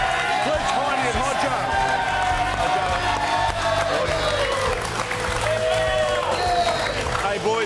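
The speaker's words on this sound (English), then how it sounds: "Keep the applause going." A studio audience on a rugby league show applauds loudly and continuously, with cheers and a voice talking over the clapping.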